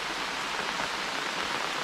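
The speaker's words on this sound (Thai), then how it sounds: "เดี๋ยวให้ฝนหยุดกันครับ" Steady rain pours down outdoors at a natural fishing spot in Thailand, a dense even hiss that continues without a break and holds at a moderately loud level throughout.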